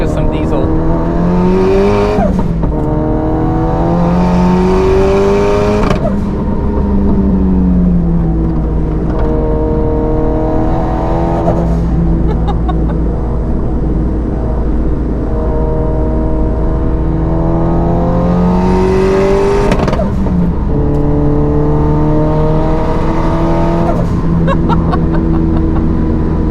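A Mitsubishi Lancer Evo race car at the Nürburgring drives hard, its loud engine rising and falling through repeated upshifts and downshifts, heard close from onboard for the whole stretch.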